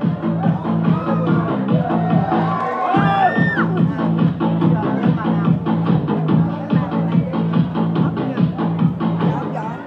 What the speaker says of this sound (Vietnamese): Xin các vị cô chú có thể dành những tràng pháo tay tán thưởng cho thí sinh được không ạ?